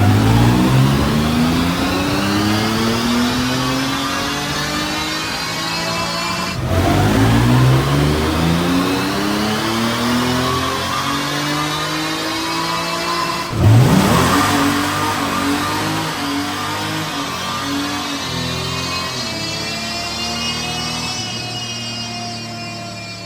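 A 2023 Honda Goldwing motorcycle fitted with a DNA air filter runs on a dyno, climbing loudly through three long rising revs, each cut sharply before the next begins, with no talk.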